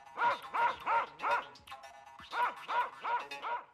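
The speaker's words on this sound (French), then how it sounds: "elle vit 2 chiens encore plus maigres que le chat, tout prêts à la dévorer." Two skinny dogs bark in quick, close runs of about four sharp yelps each, split by a short pause, loud and clear with no voices.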